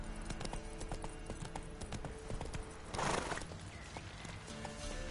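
Hooves of the horse Roach clip-clop at a quick gallop in The Witcher 3 video game, a steady rhythmic beat close by with a brief louder rush of noise midway.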